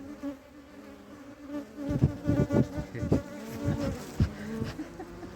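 Honeybees being hived from the ground make soft buzzing that swells into several louder, close bursts midway, then settles back to a faint hum.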